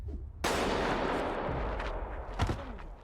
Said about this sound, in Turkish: bir silah sesi duyuyorlar ve en öndeki oyuncu yere düşüyor